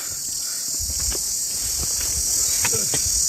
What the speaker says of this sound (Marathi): रातकिड्याची किर चालू आहे